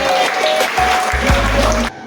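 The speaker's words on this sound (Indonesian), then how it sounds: "kasih tepuk tangan untuk yang sudah berdiri" Students in a classroom give a round of applause, a dense, steady clatter of many hands lasting about two seconds before it stops abruptly.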